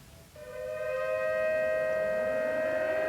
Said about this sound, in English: until a raid siren was heard.